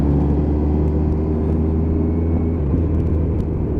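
A Kawasaki GTR1400 motorcycle on the road produces a constant low engine rumble with wind roar, close and loud, and a slight shift in pitch near the end.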